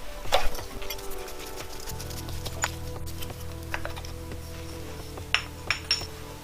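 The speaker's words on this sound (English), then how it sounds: "First off, let's remove the bolt and plate." Metallic clinks and light taps come from a bolt and metal plate being removed from a Mazda MX5 Mk2 engine during a strip-down, scattered irregularly over a low steady hum, close and fairly quiet.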